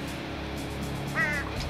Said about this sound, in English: Go away, you damn bird!